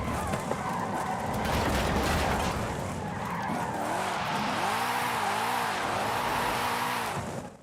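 A 1989 BMW 325i in Forza Horizon 5 skids with loosely gripping tires, a steady roar of tire noise and engine drone running throughout, with rising and falling engine revs toward the end.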